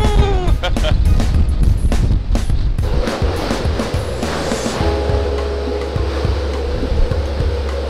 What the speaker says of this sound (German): Wir haben seit dem Nachmittag ziemlich hohen Wellengang und Sturm.